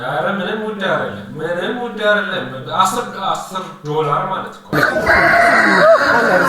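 Chickens cluck and crow at a busy market in Merkato, Addis Ababa, loud and close, with people talking over the birds throughout.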